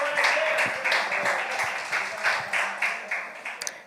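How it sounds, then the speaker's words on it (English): A youth gathering breaks into steady group clapping, loud and rhythmic with distinct individual claps, and a voice speaks briefly over it. "Clap it up."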